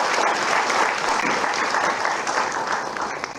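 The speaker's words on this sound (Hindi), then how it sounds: "एक बार ताली बजाइए।" Loud, sustained applause from an audience at a student merit award ceremony in Dehradun, a dense wash of clapping that carries on steadily before gradually thinning out.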